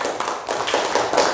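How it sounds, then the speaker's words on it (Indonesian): A classroom of school pupils briefly claps for a group of classmates: a short, close burst of a handful of hand claps lasting just over a second. "Kita beri tepuk tangan untuk kelompok 4"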